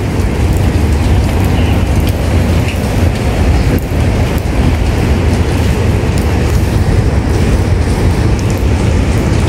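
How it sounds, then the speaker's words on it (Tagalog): Rain falls steadily in a Hong Kong park, a loud, dense, continuous hiss close to the microphone throughout. "still a bit raining"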